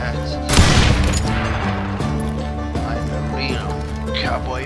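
Rapid gunfire from hired guns in the Western shooter Call of Juarez: Gunslinger, with a loud burst near the start and then sustained firing and clattering under a voice speaking throughout.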